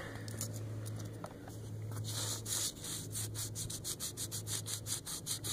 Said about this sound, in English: Rub it along the edge until it gets smooth.